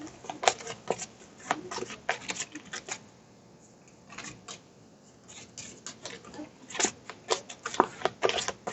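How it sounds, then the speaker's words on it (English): Board game behavior cards being shuffled by hand on a tabletop, a run of quick riffling and snapping bursts with short pauses between, close and fairly quiet, no talking. "I'm going to shuffle those really quick"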